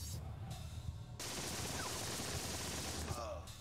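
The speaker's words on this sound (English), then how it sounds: "They're still shooting at my machine gunner" Gunfire from a World War II video game, The Troop: muffled bursts of shots and a dense crackling fusillade at a distance, continuous under a steady background rumble.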